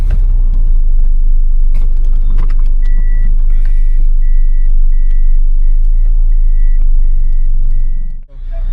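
A car driving on a road at night heard from inside, with a loud continuous engine and road rumble, a steady repeating electronic beep chiming through the middle, and a voice speaking briefly.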